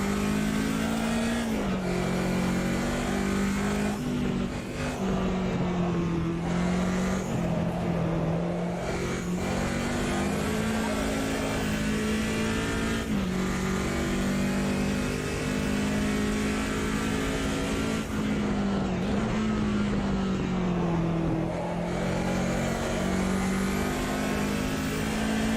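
A race car lapping the Nürburgring Nordschleife in the racing game Automobilista 2, its engine droning loud and constant with pitch rising and dropping through gear changes and corners, with no voices.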